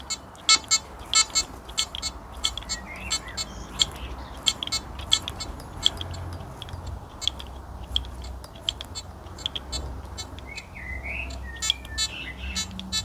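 A Nokta Simplex Plus metal detector sounds off over a Roman coin: a string of sharp, chirpy electronic beeps repeating in quick irregular bursts over an outdoor background hiss.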